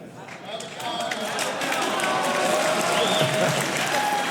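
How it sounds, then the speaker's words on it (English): A live talk-show audience at WWDC 2018 breaks into applause that rises quickly and holds as a full, dense wash of clapping and crowd noise, with some voices. "We'll do an applause."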